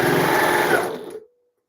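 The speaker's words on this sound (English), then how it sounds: "now I'm stitching the lining to the fabric." Sewing machine stitching a tote bag's lining to its fabric, a close, steady whirring run of about a second that cuts off abruptly, followed by silence.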